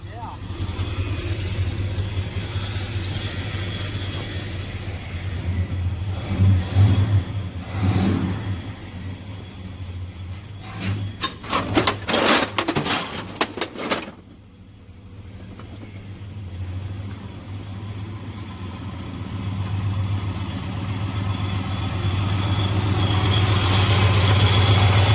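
A small engine running steadily after an idle screw adjustment, with a low constant hum, a few mid-clip revs and rattling bursts, then settling back to a smooth idle, close and loud.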